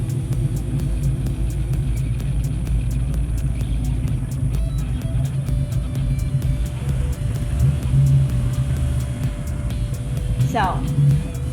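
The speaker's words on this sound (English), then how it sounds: "that blue Camaro is his Camaro, but it's his best friend who's driving it" A loud blue Rally Sport Camaro runs with a heavy, steady engine rumble. It throbs low and close throughout, with a brief rising whine near the end and voices faintly underneath.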